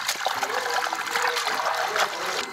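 Water splashing and trickling as mustard greens and other vegetables are washed in a large pot of water, a continuous close sloshing with no talk.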